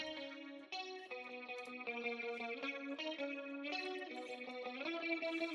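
Electric guitar with wobbling vibrato and layered effects, picking a bright repeating melodic figure, steady and unaccompanied.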